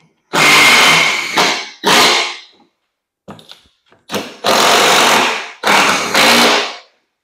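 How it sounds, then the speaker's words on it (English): A power drill whirs loudly up close in several short bursts, pre-drilling holes for self-tapping screws on a Club Car Precedent golf cart, with brief pauses and a few small clicks between them. "even though these are self-tappers, I had decided to pre-drill"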